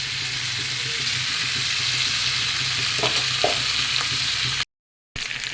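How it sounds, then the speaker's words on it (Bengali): Cauliflower florets and potato pieces fry together in a pan, giving a steady close sizzle with a few scraping stirs, then a brief gap of silence before the frying resumes. "একসঙ্গে ফুলকপি আলু দুটোই ভেজে নেবো"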